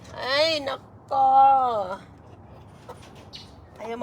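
Chickens being caught for handing out give loud, squawking calls in two strong bursts and a short third, close by, mixed with people talking in the background.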